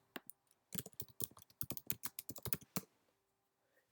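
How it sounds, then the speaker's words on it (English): Someone types on a computer keyboard in a quiet room, a quick irregular run of close, crisp key clicks lasting about two seconds between short silences. "we'll just type in English this time."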